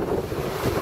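Strong wind buffets the microphone on a sailboat running under engine power, a dense, continuous low roar with gusty rumbling and a wash of water noise, loud and close throughout.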